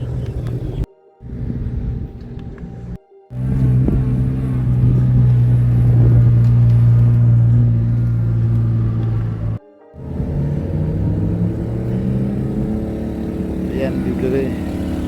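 Competition race car engines, BMW among them, running near the closed paddocks at Circuit de Bresse, a loud steady engine drone with two brief dropouts, under a voice.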